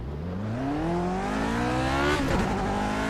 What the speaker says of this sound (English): like proper wheel spin